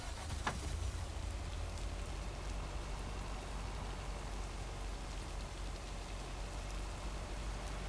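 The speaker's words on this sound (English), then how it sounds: "I know it's raining" Steady rain falls in the video game Lake, a constant even hiss of drops on surfaces with a low rumbling undertone and no voices.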